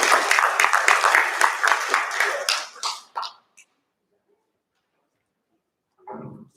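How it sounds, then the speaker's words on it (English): Congregation applauding at a church worship service, steady broadband clapping for about three seconds that quickly fades out, then silence, with a brief voice at the end. "Give them a big applause."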